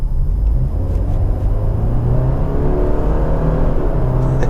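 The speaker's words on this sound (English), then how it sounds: "I am going to test out the acceleration of this vehicle" A 2018 Subaru Crosstrek Limited accelerates, heard from inside as a loud, steady low engine drone and road rumble that builds gradually without pause.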